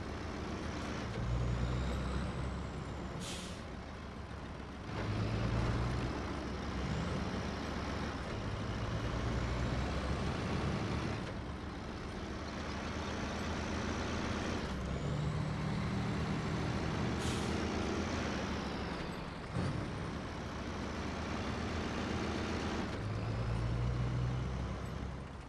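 A Kodiak K70 truck drives in SnowRunner: a continuous low diesel engine drone that swells and eases, broken twice by sharp air-brake hisses, with no speech.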